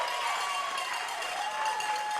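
A baseball crowd at a NJCAA Region 2 tournament game applauds a called third strike, a steady wash of clapping and cheering from the stands lasting a couple of seconds with no clear talk.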